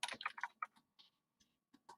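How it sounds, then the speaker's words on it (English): Typing on a computer keyboard, quiet close clicks in a quick burst of keystrokes followed by a few slower, scattered taps with gaps between them, with no talking. "I'm typing."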